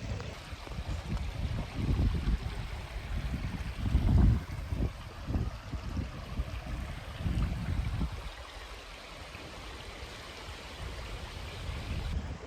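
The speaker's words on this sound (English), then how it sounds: "so I'm sneaking down here to the creek" Pine Creek flows steadily in a closed park in the Arbuckle Mountains, a soft continuous rush of water mixed with breezy outdoor noise, with a few slightly louder swells partway through.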